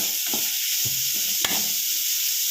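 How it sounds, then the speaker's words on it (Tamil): Grated beetroot sautéing in a pan with chicken masala and salt gives a steady close sizzle, broken by a few scraping strokes of a spatula and one sharp tap on the pan. "நம்ம துருவி வச்சுருக்கிற பீட்ரூட்டு இது கூட சேர்த்து ஒரு ரெண்டுலேருந்து மூணு நிமிஷம் வரை நல்லா வதக்கினா போதும்"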